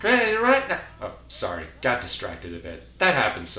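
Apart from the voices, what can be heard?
No everyday noise stands out behind the speech.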